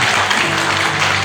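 Congregation clapping in a church during a worship service, a dense, steady wash of applause that holds at an even level with a faint hum beneath, and no voices standing out.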